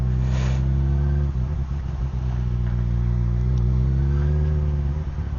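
A Yamaha FZ6R motorcycle engine climbs a hill at low revs, a close, steady droning pull with a slight rise in pitch and light wind noise throughout.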